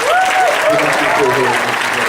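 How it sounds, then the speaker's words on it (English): Sustained audience applause at a Dragon*Con 2012 panel for Lantern City, dense and steady, with a voice talking faintly over it. "I'd like to give a big round of applause for the people"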